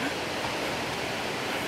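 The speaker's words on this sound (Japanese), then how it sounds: "なんか水の音が聞こえてきましたね" Steady broadband rush of water flowing outdoors in a rural village near Tokyo, a continuous even wash like a stream or small waterfall, close and unbroken with no voices.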